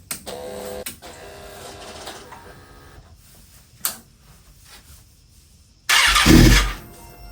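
Kawasaki Ninja ZX6R motorcycle, engine just reinstalled and with no fuel in the system, cranking with the starter in short bursts, then a brief loud catch near the end that dies away.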